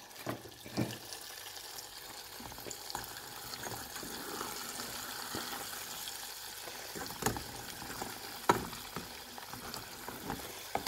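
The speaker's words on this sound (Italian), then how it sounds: "gli calamari preferisco friggerli a piccole quantità così la frittura viene ancora meglio" Calamari fry in hot oil in a small Magic Cooker pan, giving a steady soft sizzle and crackle with a few sharp pops and clinks throughout, close and fairly quiet, with no talking.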